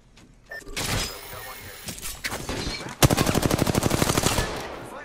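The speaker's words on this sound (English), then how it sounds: "Getting shot at." Rapid automatic gunfire in the battle royale game Apex Legends, a scattered burst of shots followed by a sustained rhythmic volley of loud, evenly spaced rounds, with a voice faintly present underneath.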